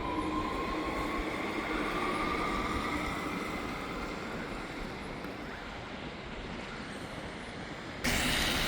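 An REM light metro train passes a station in snowy Montreal suburbs in a loud, continuous rushing roar that holds steady for several seconds. A louder burst cuts in at the end.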